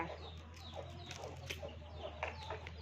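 Fighting cocks raised for sale at a rural village home in northeast Thailand cluck and crow in short repeated bursts, fairly faint and spread over a low steady background hum.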